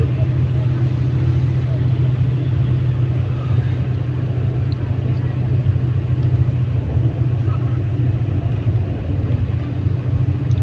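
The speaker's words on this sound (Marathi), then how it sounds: "एक्सप्रेस गाडी खूप फास्ट आहे" Fast express train rushing past close by, a loud continuous low rumble and roar holding steady throughout with wind buffeting, while people talk over it.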